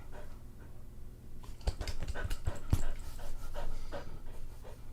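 A dog pants close by in rapid, breathy bursts that come through clearest in the middle of the stretch, with no talking over it.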